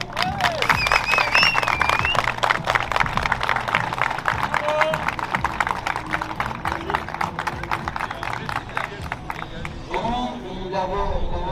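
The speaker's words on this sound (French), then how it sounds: "faire un tonnerre d'applaudissements pour celui qui arrive en 4e position" Crowd applause and cheering ring out for the fourth-place finisher at a drift competition, the Viking Cup, a dense sustained wash of clapping and babble that carries on loudly before easing slightly near the end.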